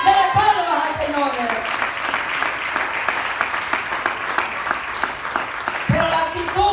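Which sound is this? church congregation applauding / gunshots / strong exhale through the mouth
church congregation applauding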